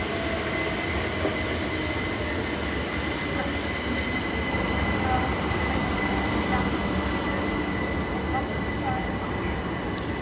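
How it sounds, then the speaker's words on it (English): Class 375 electric multiple unit pulling into Tonbridge station on a Hastings service, a steady rumble and wheel hiss with faint squeal heard throughout, with some talk. "So 375711 leads the Hastings service in."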